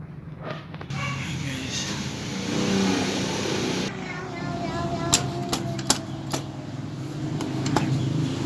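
A motorcycle engine revs up and down close by, followed by several sharp clicks and taps over a steady running hum.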